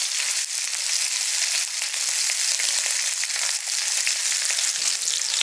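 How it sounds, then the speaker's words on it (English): Steak searing in a cast iron pan, a loud, constant hissing sizzle close up that runs unbroken throughout with slight flutters in intensity and no voices. "2 minutes on this first side. That's going to develop a crust and really hit that sear."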